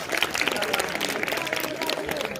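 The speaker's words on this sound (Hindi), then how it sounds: "वाह, ये तालियां तो बनती हैं" An audience claps for an entry at a school new year greeting card making competition, with dense, steady applause overlapping a voice that keeps talking throughout.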